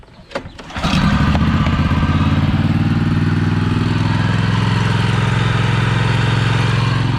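A ride-on vehicle with hand controls cranks and starts, then its engine settles into a loud, steady, close running drone that holds unbroken to the end, no voices over it.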